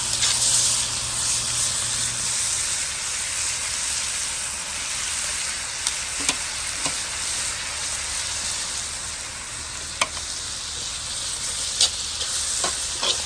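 Steak fajitas sizzle and fry in a Lodge cast iron wok set on a Weber kettle grill, a steady close hiss with a few faint clicks and scrapes, with no voices.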